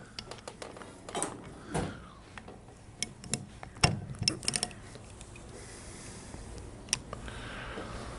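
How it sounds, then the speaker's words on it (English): 3/8 ratchet clicking while tightening the rocker boxes on a Harley-Davidson Shovelhead engine, with irregular bursts of sharp ticks and metallic clacks against quiet shop background. "Need a big 3/8 ratchet."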